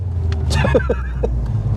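Ford Escort RS Turbo Series 2 driving, a steady low engine and road rumble running throughout at close range, with a brief voice in the middle.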